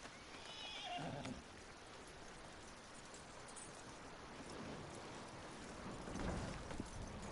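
A horse in Red Dead Redemption 2 whinnies near the start, a short breathy neigh over a soft outdoor ambience, with faint hoof movement and a low snort later on.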